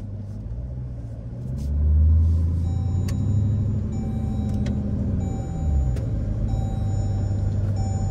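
A 900 whp Dodge Charger Hellcat with a loud aftermarket exhaust rumbles while driving, a deep throbbing engine drone that swells with throttle and settles back, heard from inside the car with no talking.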